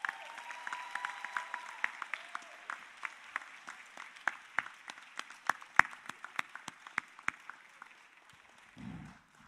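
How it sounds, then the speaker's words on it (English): Audience applause at a spring commencement ceremony, a dense wash of many hands clapping with sharp individual claps standing out, steady for several seconds before fading, followed by a brief low thump. "Let's give them all a round of applause."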